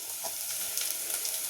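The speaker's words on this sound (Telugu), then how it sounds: "ఇప్పుడు అల్లం వెల్లుల్లి పేస్ట్ వేసుకుందాం" Ginger garlic paste fries with onions and mint for a cooker chicken pulao, a dense, even, close sizzle with faint stirring scrapes running throughout.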